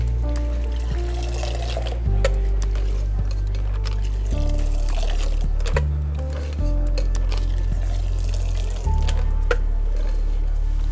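Negroni Sbagliato-style cocktail with rice-scented Americano thrown between vessels, liquid pouring in long streams that change pitch as the glasses fill, with clinks of metal and glass between pours.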